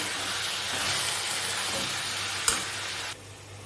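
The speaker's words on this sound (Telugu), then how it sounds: "నేను మరో బాండి పెట్టుకుని ఎగ్స్ అయితే ఫ్రై చేస్తాను" Eggs fry in oil in a pan, a close, steady hiss and sizzle with a brief sharp clack near the end before the sound drops away to a quieter background.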